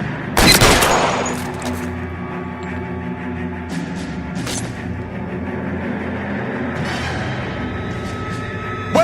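In a shootout in L.A. Noire, a loud gunshot cracks out, then sharper scattered shots ring over a steady rumbling engine drone.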